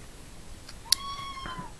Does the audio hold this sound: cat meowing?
yes